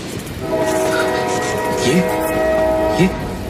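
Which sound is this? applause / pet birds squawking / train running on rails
train running on rails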